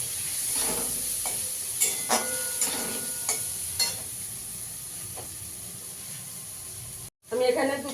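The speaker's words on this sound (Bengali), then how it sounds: "একটু ধনের গুঁড়ো দিয়ে দেবো। ভালো করে একটু কষিয়ে নেবো।" Spices with turmeric and coriander powder frying in a pan hiss quietly under a few spatula scrapes, close by, with a brief cutout and then a louder burst at the end.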